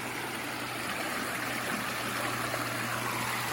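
Stream water pours steadily into a concrete culvert in a garden, a continuous broadband rush with a faint low hum beneath, no voices.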